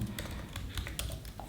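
Computer keyboard keys clacking in a quick, uneven burst while a LINQ query in C# is written, close and fairly clear, with no talking over it.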